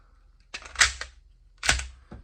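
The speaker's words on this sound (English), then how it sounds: "And then put a mag in it." A magazine going into a PSA Dagger S pistol lower fitted with a Gen 5 Glock 45 upper, giving two sharp, close metallic clicks about a second apart, with no talk.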